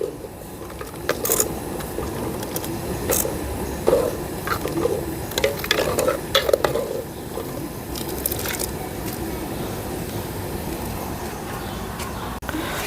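Wet squishing and soft scraping as a thick, boiling curry of wild yam is stirred in a pot, with irregular clicks and patters over a steady low bubbling background.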